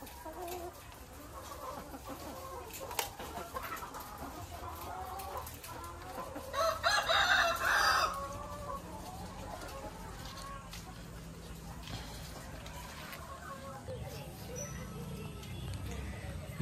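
Many laying hens in a layer farm building cluck and chatter continuously, with a brief louder burst of squawking midway and someone speaking at times over the flock.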